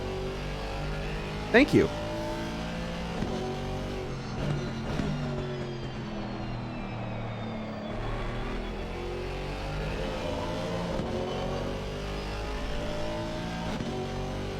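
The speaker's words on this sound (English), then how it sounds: "Listen to that AMG." A Mercedes-AMG race car on track at Barcelona, its engine revving hard and rising and falling through gear changes in a sustained loud whine, with a brief sharp squeal early on and a commentator talking over it.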